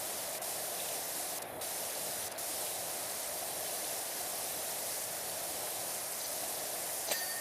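A pressure washer sprays continuously in the PowerWash Simulator 2 video game, a broad, even rushing hiss that holds steady throughout with no voices.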